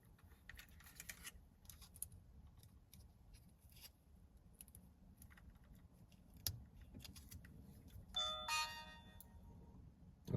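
A dash cam installed in a Volvo XC60 powers on with a short electronic chime that rises in quick tones near the end, after faint clicks and handling noise in a quiet car.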